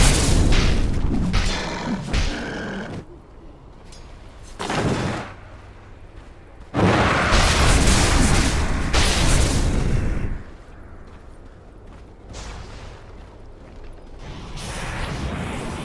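Dota 2 match with Radiant's bottom tower under attack: loud booming impacts and mechanical clatter arrive in heavy bursts, separated by quieter stretches of game ambience.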